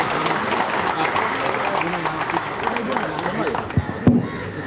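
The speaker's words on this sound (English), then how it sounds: "good big round of applause" An audience at a cycling association event applauds five veteran athletes from different sports; steady clapping from a crowd mixed with chatter and background babble, with a few louder bumps near the end.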